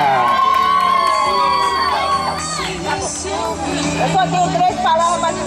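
At a birthday party, a lively crowd cheers and shouts, with children's voices and excited whoops mixing with loud talking and chatter throughout.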